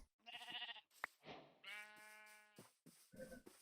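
Sheep in a video game bleating several times in short bursts, loud and close, with brief gaps between the wavering calls.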